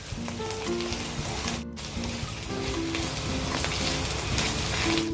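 Chili paste and aromatics for an anchovy sambal fry in a pan with a continuous, moderately loud sizzle and fine crackle, while soft background music plays underneath.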